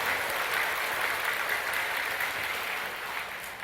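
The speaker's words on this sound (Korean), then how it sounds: "그 하나님 앞에 우리 모두가 다 박수 한번 해요." A church congregation claps together during a Sunday sermon, a dense, continuous wash of applause that holds steady and fades slightly at the end.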